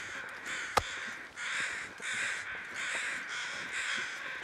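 Crows caw in the survival video game The Long Dark, repeating steadily and fairly loudly through the whole stretch, with one sharp click near the start.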